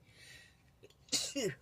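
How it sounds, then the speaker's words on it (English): A single sharp sneeze, a quick inhale then an explosive burst, close and loud after a quiet moment. "I'm going to sneeze."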